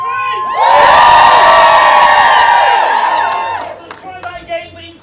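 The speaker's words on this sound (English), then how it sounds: "So Poshly, we can have a huge cheer" A group of people at a corporate team event lets out a loud, sustained cheer and whoops together on a count, swelling quickly and holding for about three seconds before fading into scattered shouts.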